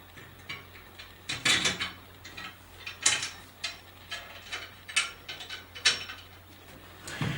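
Two bolts slid into the holes of a BBX handle assembly, producing a series of close, sharp metallic clicks and scraping rattles in irregular bursts, with no talking.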